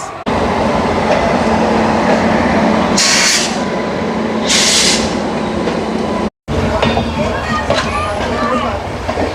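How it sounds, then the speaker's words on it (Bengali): The Himgiri Express runs out of Howrah with a loud, steady rumble and rattle, two hissing bursts partway through, a brief dropout, then the rolling clatter resumes. "হাওড়া থেকে ছেড়ে এই মুহূর্তে আমাদের ট্রেন তার পরবর্তী গন্তব্য হচ্ছে আসানসোল"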